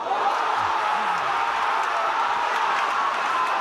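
A steady, loud roar of spectators cheering at a schools rugby match between Bishops Diocesan College and Rondebosch Boys High School, sustained and broad without pause.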